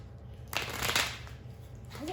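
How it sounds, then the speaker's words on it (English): A deck of playing cards is shuffled at home during a tabletop card game, a soft riffling burst that swells and trails away over a low steady hum, with no talking over it. "Oh, here, I'm gonna shuffle them."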